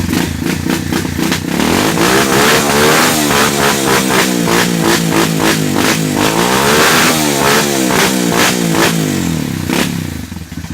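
An XM 200 motorcycle fitted with a GPR 2.0 full-system exhaust revs hard and close, its engine climbing and falling through repeated throttle blips in a loud, raspy roar with no talk over it.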